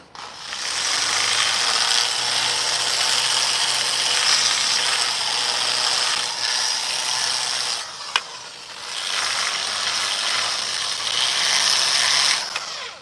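A power sander removes char from chainsaw-carved wood outdoors in freezing weather, a loud close grinding whir running in two long passes separated by a short pause.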